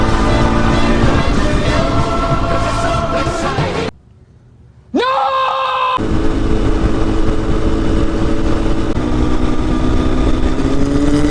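A Kawasaki ZX10R sportbike on a ride, giving a loud, continuous engine drone with shifting pitch, cut by a short near-silent gap and then a quick rising rev before the steady roar returns.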